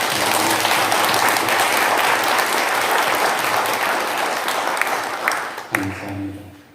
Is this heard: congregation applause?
yes